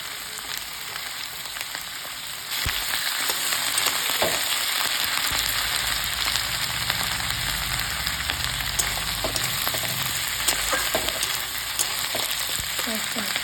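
Chicken for chili chicken fries in a pan with ginger garlic paste, a loud, constant sizzle that jumps up in intensity after a couple of seconds and crackles on with light stirring scrapes.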